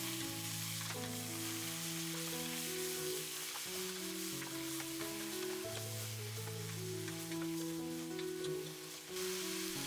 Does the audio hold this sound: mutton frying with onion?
yes